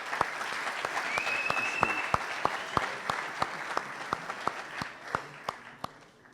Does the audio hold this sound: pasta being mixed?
no